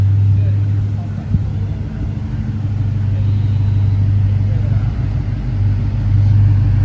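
A deep, steady sports car engine rumble, a black Corvette C8, idles close by, a low throbbing drone that holds constant throughout without a distinct start-up moment.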